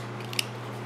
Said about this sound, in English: what I'm gonna do is take and snip off at this ridge right here.